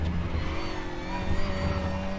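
A WTCR touring car in Raceroom at the Nürburgring slides through a fast corner, its engine droning steadily under a thin sustained tire squeal, loud and continuous with no talk.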